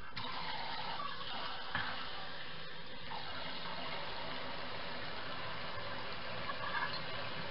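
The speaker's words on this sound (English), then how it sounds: "And then the 1 cup of cold water." A cup of cold water is poured into tres leches cake batter that already contains oil: a steady, soft splashing stream that runs without pause for the whole stretch at low volume.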